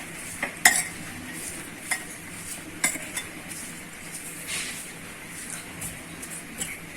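A noodle omelette mixture is stirred in a bowl after salt goes in, with a few sharp utensil clinks against the dish over a soft, steady scraping swirl, close and fairly quiet.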